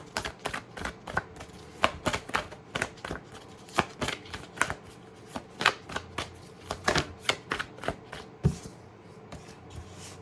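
Tarot cards are shuffled and drawn up close, making quick, uneven bursts of crisp riffling and snapping clicks throughout.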